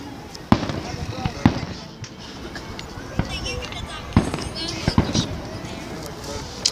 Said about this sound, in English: The fireworks are really cool.